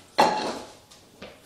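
Frying pan handled in a home kitchen while schnitzel is prepared, one loud metallic clatter followed by two fainter knocks of cookware.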